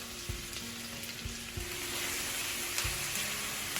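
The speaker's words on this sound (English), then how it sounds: "So into the pan, I'll add onions and garlic." Onions and garlic frying in coconut oil in a single pan, a continuous close sizzle broken by several soft stirring knocks and scrapes, growing slightly louder toward the end.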